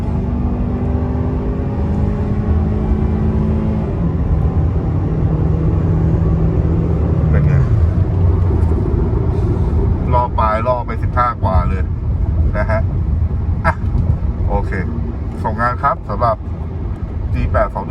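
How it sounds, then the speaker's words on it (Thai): Honda Accord 2.0 engine on LPG revving at full throttle, a loud rising then falling engine roar close by, followed by sputtering bursts and popping as it settles, with someone talking over it. "อันนี้คือช่วงใช้คันเร่งทั่วไป นะครับ ดูค่า AF 147 นี่คือปกติ กดคันเร่งร้อย"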